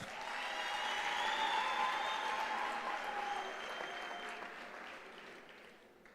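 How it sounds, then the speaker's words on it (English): Audience applause at the UNISA 150th anniversary celebration for Mabatu, a sustained hall-wide clapping that swells then gradually fades, with faint voices and cheers mixed in. "Can we please give Mabatu a round of applause?"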